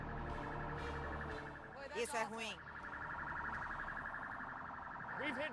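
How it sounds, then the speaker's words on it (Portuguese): A loud, steady warning siren sounds continuously before the implosion of the Fonte Nova stadium in Salvador, Bahia, with a layered wailing tone. It cannot be shut off, and a person speaks briefly over it. "Essa é a sirene de 5 minutos."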